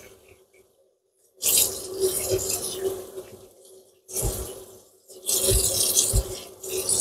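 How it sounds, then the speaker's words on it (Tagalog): Chili peppers are rinsed under a running kitchen tap, the water gushing in three separate bursts with splashing and rubbing between pauses, close by and moderately loud. "Itong sili ay hugasan natin."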